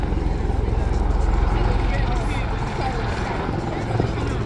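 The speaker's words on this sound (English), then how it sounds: "Well, helicopters now." Helicopters flying at the Eastbourne Airshow, a loud steady low rotor drone filling the whole stretch without a break, with a faint voice underneath.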